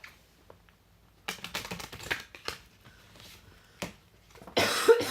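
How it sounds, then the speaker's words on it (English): Several dry coughs and throat-clearing bursts from a person indoors, coming in irregular clusters with short quiet gaps, growing louder and harsher toward the end. "I almost feel like I'm allergic to something in here, so I apologize for all my coughing."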